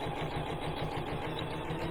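A sewing machine stitching around the edge of a fabric plate cozy, a fast, even mechanical chatter with a regular pulsing rhythm, heard close and moderately quiet with no talking.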